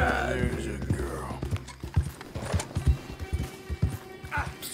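A horse in Red Dead Redemption clip-clops along at a walk, an irregular series of fairly close hoof knocks. It begins over a softer, busier background and continues through to the end.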